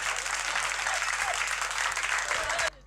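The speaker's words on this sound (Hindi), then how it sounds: "एक बार तालियां बजा दो जरा जोरदार" Loud, sustained applause from a live audience, a dense wash of clapping that fills the stretch and cuts off abruptly near the end.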